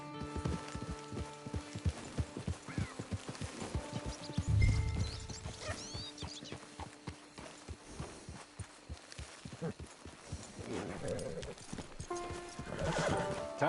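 A horse in Red Dead Redemption clip-clops along with steady hooves, giving a snort and whinny partway through, close and clear against the game's ambient sounds.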